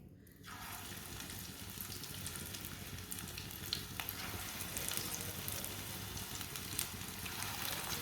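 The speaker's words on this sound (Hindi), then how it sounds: "ऑयल हमारा गर्म हो चुका है। आप इसी तरह ना थोड़ा थोड़ा पेस्ट लेंगे" Spinach and chicken paste spoonfuls hitting hot oil set off a loud, steady sizzle and frying hiss that starts abruptly and continues close up for several seconds, with no voices.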